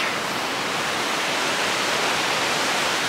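A river on a hike in the Scandinavian Alps rushes with a steady, loud broadband roar, unbroken and without voices.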